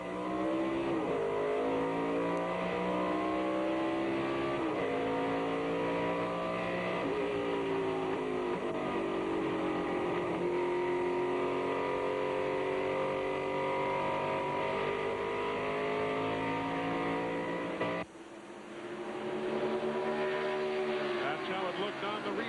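Onboard a Busch Series race car at New Hampshire as it gets set for a restart, the engine roars loud and continuous with rising and falling revs through shifts, briefly cutting out near the end before surging again, under a commentator talking.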